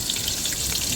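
Garlic sizzling in a cooking pot during a seaside village meal, a steady close crackling fry with fine popping throughout and no voices.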